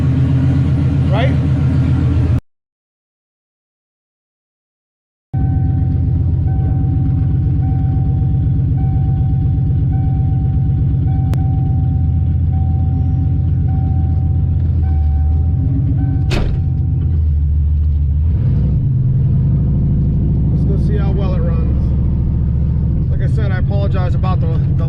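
A turbocharged GT40 stock-block Foxbody Mustang with big injectors rumbles loudly on a hard run, a steady heavy drone after a brief cutout, with a few shifts in pitch. Voices speak over it now and then.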